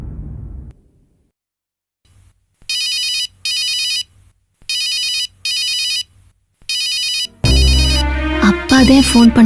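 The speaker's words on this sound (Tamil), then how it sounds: "அப்பாதே ஃபோன் பண்றாரு." A mobile phone ringtone for an incoming call in a Tamil TV serial scene: loud, close, electronic chirping bursts repeating in a regular rhythm, followed by dramatic background music.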